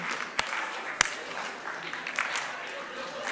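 A group clapping together during a counting rhythm game at a school event, with a couple of sharp claps standing out over a murmur of voices and background chatter.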